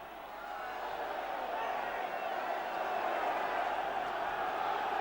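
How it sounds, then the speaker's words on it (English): Football crowd at a 1979 FA Cup third round match between Southend United and Liverpool, a broad continuous roar of spectators swelling slightly, heard from the stands at a distance beneath a commentator's voice. "So the crowd trying to rouse the third division side to the dramatic finish."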